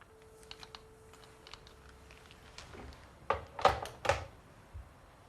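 Faint clacking keystrokes come from an old typewriter, a scattered light tapping that builds to several louder, sharper strikes near the end, heard alone in a quiet room.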